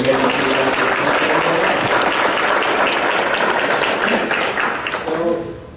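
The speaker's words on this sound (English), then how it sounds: "Big round of applause for Symantec" A keynote audience applauds Symantec in a loud, sustained burst of clapping that fills the room, then thins and tapers off near the end.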